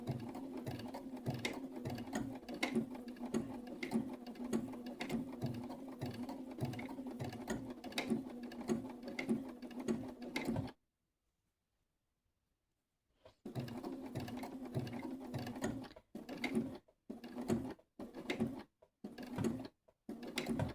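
A sewing machine stitching a t-shirt design onto the back of a flannel shirt, a close steady rapid needle chatter that stops for a few seconds, then resumes in short start-stop bursts.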